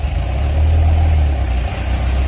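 Heavy road traffic in Cordoba, Cebu, a loud, continuous low rumble of trucks and engines passing close by, with a brief air-brake-like hiss and no talking.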